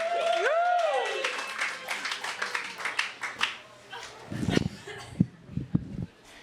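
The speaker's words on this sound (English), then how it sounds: "Let's give her a good round of applause." An audience at a comedy show applauds the final comedian, Mizz Kitty, with a dense burst of clapping that carries a few whistles early and thins into scattered claps toward the end.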